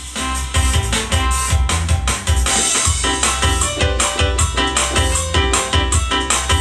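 Arranger keyboard playing an auto-accompaniment style with a guitar voice: steady drums and bass under strummed guitar-like chords, loud and continuous, with no talking.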